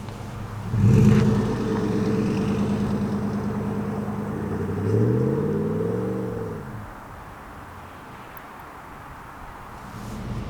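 A Toyota 4Runner on Goodyear Duratrac tires drives through deep snow, its engine rumbling up with a rising rev and then easing to a quieter steady drone, heard from inside the vehicle.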